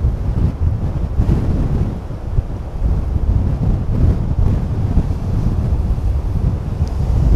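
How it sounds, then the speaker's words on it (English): Stormy wind buffeting the microphone on the seafront at Cleveleys near Blackpool, a loud continuous roar with gusts, and big waves crashing against the seawall somewhere in the distance beneath it. "you can just see the big waves in the distance that are hitting the seawall at Blackpool."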